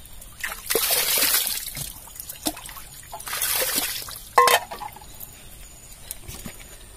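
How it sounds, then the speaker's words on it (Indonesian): Natural spring water trickles and splashes in bursts as someone scoops it to wash their face, soft liquid dribbles broken by brief louder splashes, with no talk. "Saya hanya cuci muka saja"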